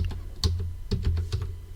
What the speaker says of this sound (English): So I'm typing in Joseph.